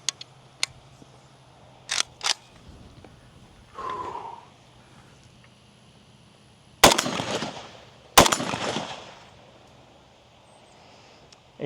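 FB Radom Mini Beryl rifle firing shots, a few light clicks and then two loud, close reports with short decaying tails, widely spaced and with no talk.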